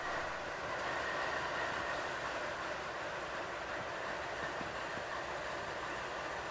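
Norfolk Southern diesel locomotive engine, NS 9005, starting up: a loud, steady broadband diesel roar with rumbling lows, heard close and continuous with no talk.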